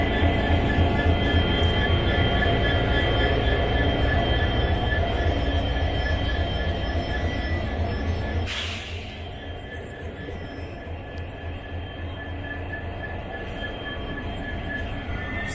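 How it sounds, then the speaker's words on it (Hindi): A Siliguri-based WDG4 diesel locomotive, number 12179, hauls the Murkongselek Express with a loud, steady rumble of engine and rolling wheels, a brief sharp burst midway, then a slightly quieter continuous run of passing train noise. "12179, ये वो लोकोमोटिव था जिसने अब तक इस ट्रेन को यहाँ तक लाया।"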